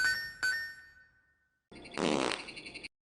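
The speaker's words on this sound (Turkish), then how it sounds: "Biliyordum işte osurmuşsun." A short buzzy fart, close up, follows a couple of faint chiming tones and a brief pause; no talking.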